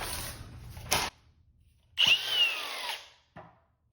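Milwaukee 18V cordless angle grinder with electric brake, spun up in two short bursts: a brief whir that cuts off, then a louder motor run of about a second winding down, followed by a faint click.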